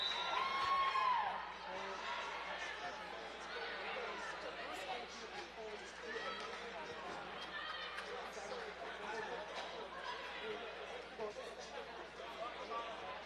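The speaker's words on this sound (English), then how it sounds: "you can hear the crowd just erupts as they have just seen their first goal of the season" A home soccer crowd at a Louisville Triumph FC match against Cincinnati Sirens FC in Mockingbird Valley, Louisville, fills the air with dense, continuous cheering and chatter after the season's first goal, with a whistle-like whoop early on and a commentator talking over it.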